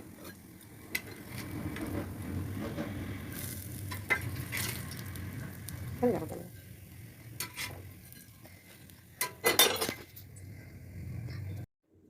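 Paratha fries in hot oil in a pan, a soft ongoing sizzle broken by scraping and clattering utensil sounds, then stopping abruptly near the end.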